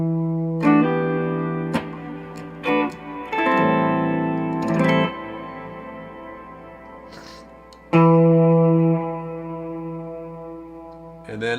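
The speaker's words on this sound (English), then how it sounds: "let's add in some of that B reverb, which is the Hall, nice lush sound" An electric guitar plays sustained chords and single notes through a Source Audio pedal's hall reverb, each strum blooming into a lush, long decaying tail that lingers between phrases.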